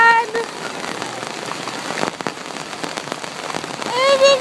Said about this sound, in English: Heavy flooding is still working here. Big rain.